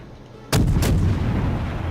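Naval ship guns fire in the World of Warships game: one sudden, loud, booming salvo bursts in after a quiet moment, then a long rolling rumble and echo that fades only slightly.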